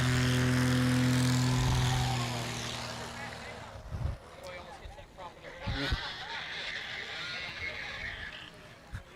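A Legend Cub propeller airplane flies low at the Sun 'n Fun 2021 airshow, its loud engine drone sweeping past and then fading. Crowd noise and cheering follow with a few sharp knocks, and a commentator talks throughout.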